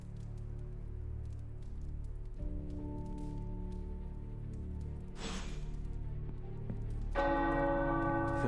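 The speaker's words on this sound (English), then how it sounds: "The tower bells are ringing." Tower bells in Marvel's Midnight Suns: a large bell tolls with a long, ringing resonance over a low steady hum, then a second brighter chime joins near the end.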